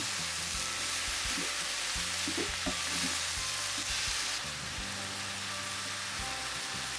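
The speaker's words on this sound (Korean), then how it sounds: "국물이 생기면 센 불로 볶아주시면 돼요" Fish cake stir-frying over high heat gives off a steady, close sizzle and crackle, with soft scraping and stirring sounds throughout.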